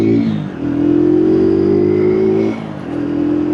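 An AJS Tempest motorcycle accelerating hard after brake repair, a loud close engine revving up steadily, dipping briefly at a gear change, then pulling strongly again.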